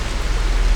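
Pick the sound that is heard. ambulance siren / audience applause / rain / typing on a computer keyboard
rain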